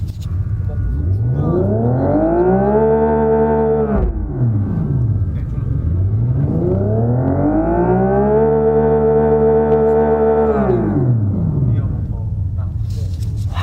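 A synthetic engine-like drone from the external speaker of a Genesis GV60 Magma electric car rises in pitch and falls again, twice, in smooth revving sweeps, steady and fairly loud throughout.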